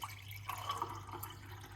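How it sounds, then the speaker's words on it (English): Water poured into a cup already holding turmeric, a soft continuous trickle and splash heard close up for under two seconds, with no talking. "then put some water into it"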